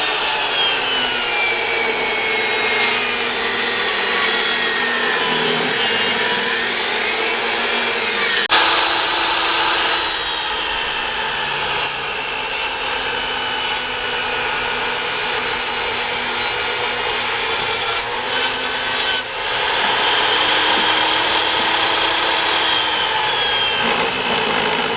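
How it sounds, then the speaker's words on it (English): Power saw cutting strips from a wooden log, a loud, continuous rasping whine that dips and strains as the blade bites, with a couple of short interruptions, close up with no talk. "now we can start cutting strips for our end table"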